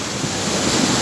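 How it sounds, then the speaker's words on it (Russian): Sea of Azov waves wash steadily onto the shore, a broad continuous surf roar with slight wind buffeting on the microphone and no voices. "Сегодня оно волнуется, набегает волна."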